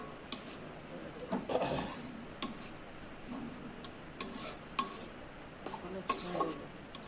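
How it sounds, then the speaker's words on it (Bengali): A spoon stirs banana blossom curry in a pan over low heat, giving scattered clicks and scrapes against the metal with soft shuffling in between, fairly quiet and close. "এটাকে শুধু সব নাড়তেই থাকবো"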